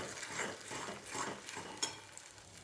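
Spiced masala for an egg curry being stirred and sautéed in oil in a pan, with soft scraping strokes of the spoon repeating in a loose rhythm over a faint sizzle and an occasional clink.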